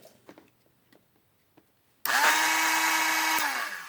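A car starter motor rigged to sharpen a chainsaw chain, starting after a few faint knocks into a loud, continuous high grinding whine that holds steady for almost two seconds, close up, with no speech.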